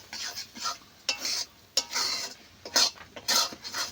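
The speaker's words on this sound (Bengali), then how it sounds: "এইভাবে অনবরত নাড়বো" Semolina dough being stirred continuously in a pan makes repeated close scraping strokes in an uneven rhythm over a soft sizzle, no talking.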